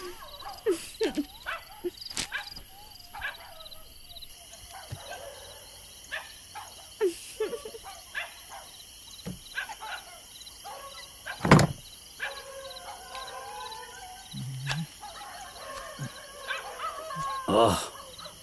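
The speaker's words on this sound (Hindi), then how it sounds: "ये कुत्ते क्यों इतना भौंक रहे हैं?" Dogs bark intermittently in a quiet night setting, the short barks and yelps scattered and mostly distant, over steady insect chirping, with occasional louder knocks.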